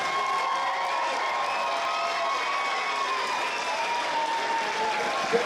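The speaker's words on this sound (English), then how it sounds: "Give these guys a round of applause." Steady applause from a large crowd at a professional MMA event fills the space, continuous and even throughout, with faint cheering mixed in.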